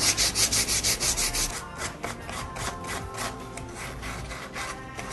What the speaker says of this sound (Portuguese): A número 400 é aquela lixa que deixa a peça bem lisinha.